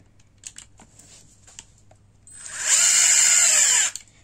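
A power screwdriver whirs steadily for about a second and a half while driving a screw into a Cricut Maker accessory, preceded by a few light clicks and taps of handling.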